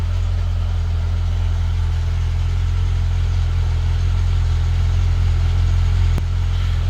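A Citroen ZX engine idles just after starting, a steady, close, low mechanical hum warming up with no revving and one brief click near the end.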